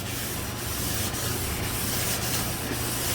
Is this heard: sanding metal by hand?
yes